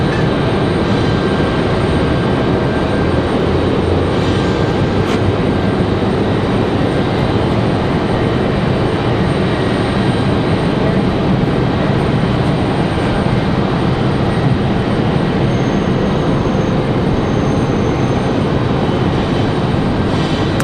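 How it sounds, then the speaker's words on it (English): A Southwest airliner taxis out at Raleigh-Durham International Airport. A loud, steady jet engine roar and rumble carries on throughout with little change. "Got Southwest on the move."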